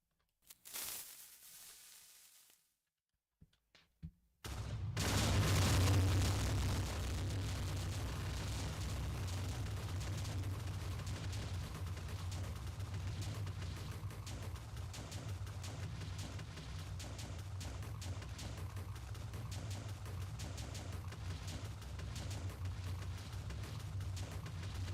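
Ten million TNT blocks detonate in Minecraft as a massive blast that swells into a loud, sustained roaring rumble lasting around twenty seconds after a few quiet moments.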